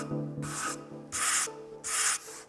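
Edges of an oak wood box being sanded by hand in a workshop, three rhythmic rasping strokes, close and steady, each a short scratchy rub separated by brief pauses, with no talking.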